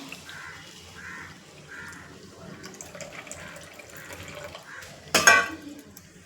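Milk pours into a metal pot in a home kitchen, a soft liquid stream with light gurgling, ending in a sharp clatter as the vessel knocks against the pot.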